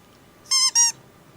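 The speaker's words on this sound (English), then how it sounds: "that's the sound gibberlings make when they die" Gibberlings dying in a tabletop game sound effect give two quick, high, shrill squeaks in close succession against a quiet background.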